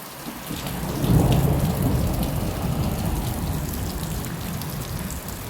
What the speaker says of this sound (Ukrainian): дуже велика гроза.